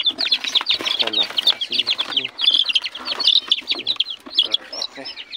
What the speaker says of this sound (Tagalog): Tapos pakawalan muna natin itong mga sisiw natin.